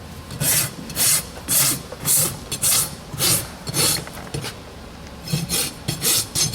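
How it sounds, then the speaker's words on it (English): A rasp files a horse hoof during trimming, giving a steady run of about a dozen rhythmic scraping strokes, close and alone, with a brief pause before the strokes resume. "This is our Balata top level rasp. It's my rasp of choice right now."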